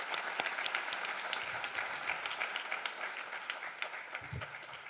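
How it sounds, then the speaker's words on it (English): An audience at a school district honors night applauds, dense crackling clapping sustained at an even level for several seconds with no speech over it. "Let's give them a big round of applause."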